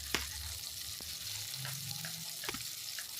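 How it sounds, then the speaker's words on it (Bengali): Fritters (bora) frying in a pan while being turned over, a steady soft sizzle with a few light clinks and scrapes from the turning, fairly quiet and close. "বড়াগুলোকে এভাবে উল্টো পাল্টে আমি ভেজে দিচ্ছি।"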